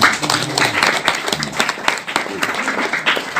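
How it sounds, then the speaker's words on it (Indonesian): An audience at a community gathering applauds a visiting guest, a dense wash of clapping from many people with voices talking and calling out over it. "tepuk tangan buat beliau"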